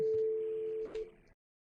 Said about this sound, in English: Now we're ringing his mobile at noon.